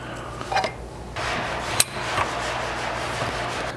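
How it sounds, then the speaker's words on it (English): Plastic clip nuts snap onto a Bronco Crusader rock slider, giving a few small, sharp clicks, the clearest one mid-clip, over low steady background hum. "you should hear somewhat of an audible click when they snap into place"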